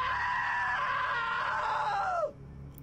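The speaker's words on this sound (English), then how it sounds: "Now that was a great scream." A character's scream in the video game What Remains of Edith Finch rings out as one long, loud, strained cry that holds steady, bends downward and cuts off abruptly near the end.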